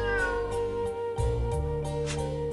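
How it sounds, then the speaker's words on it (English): A cat meows in the video game FANTASIAN, two or three clear mewing calls over steady game music, close and moderately loud with no talking. "You captured a tiger-striped cat."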